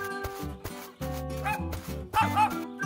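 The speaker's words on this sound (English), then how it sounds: "Huh? Is that a dog?" A cartoon dog barks and yips in a few short, bright bursts with brief gaps between them, fairly close and moderately loud.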